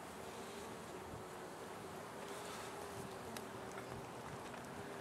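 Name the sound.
honeybees buzzing in a hive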